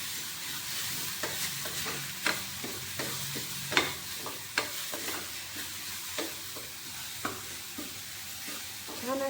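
Spices with turmeric being sautéed in a pan for vada pav filling: a quiet, constant sizzle punctuated by repeated sharp spatula scrapes and taps against the pan at an irregular rhythm, no voices.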